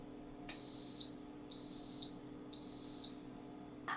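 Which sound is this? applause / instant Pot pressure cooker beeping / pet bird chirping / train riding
instant Pot pressure cooker beeping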